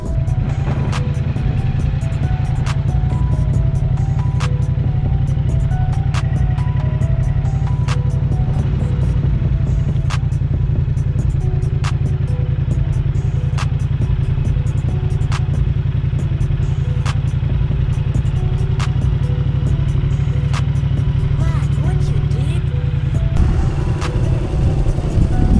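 A Yamaha MT-07 motorcycle runs steadily nearby for the whole stretch, its medium engine droning continuously with rattling, clattering mechanical ticks over the top and no speech.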